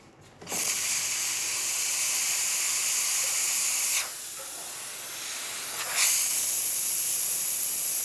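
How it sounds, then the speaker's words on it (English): Steam wand on a Breville Dual Boiler espresso machine (BES920XL) hissing loudly and steadily, with a brief dip near the middle before the strong hiss returns; no talking. "It's the steamer."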